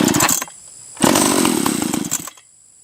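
Cold-starting Stihl chainsaw on half throttle with choke, loud buzzing bursts that cut out, catch again for about a second, then die away to quiet.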